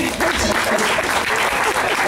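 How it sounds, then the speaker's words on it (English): Audience at a spoken word poetry event breaking into applause, a dense burst of clapping from a room full of people that starts almost at once and holds steady. "clap your hands, please"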